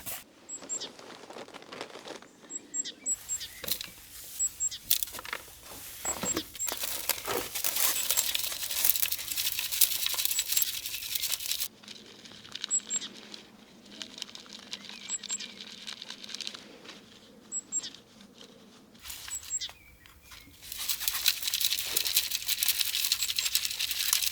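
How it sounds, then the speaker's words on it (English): Compost shaken and rubbed through a small plastic sieve for sowing snapdragon seeds, a close, continuous soft pattering and crinkling rasp that pauses briefly between bursts of sifting. "I only sift small amounts of compost for smaller seeds, so I use this little plastic sieve."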